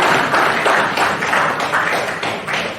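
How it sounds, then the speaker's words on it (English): An audience at a risk management conference claps for a keynote speaker, a short burst of fairly even, rhythmic applause heard at a moderate distance. "So, please, a round of applause."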